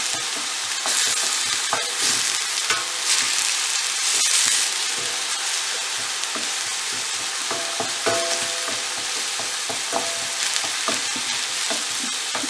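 Minced garlic clove gently sautéing in a pan for a scallop risotto, a continuous soft sizzle with scattered clicks and scrapes of stirring, close and steady with no talk.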